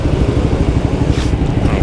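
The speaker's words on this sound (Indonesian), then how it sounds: "ini kalau kalian dengar suara knalpot gue udah berubah, dan ya memang adem banget sih suaranya" A Suzuki GSX-S150 motorcycle with an aftermarket exhaust rumbles low and steady while riding, heard close with wind noise over it and no clear speech.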